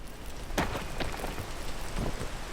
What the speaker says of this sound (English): Man, it just rains constantly here.